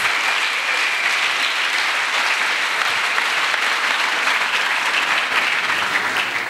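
A church congregation claps for Jesus Christ, with dense, sustained applause from a large crowd that stays loud and even throughout and has no talking over it.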